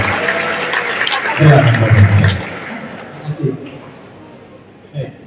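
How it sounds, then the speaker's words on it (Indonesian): An audience at a university lecture at FISIP Universitas Indonesia claps for the panel speakers and moderator. A dense patter of applause fades over a few seconds while a voice talks over it. "Mari kita berikan tepuk tangan bagi seluruh panel pembicara dan moderator"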